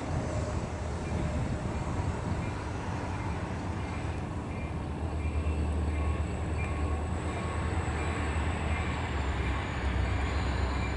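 CSX locomotives 8196 and 7531 haul a train along the old main line, a loud, steady rumble of engines and rolling railcars that fills the whole stretch without a break.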